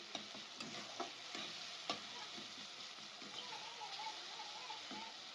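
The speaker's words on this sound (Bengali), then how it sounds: "এটাকে আবার একটু নেড়ে দেবো" Soft, quiet stirring of a sizzling egg chop mixture salted in a Bengali kitchen pan, with occasional spoon scrapes and taps over a steady frying hiss.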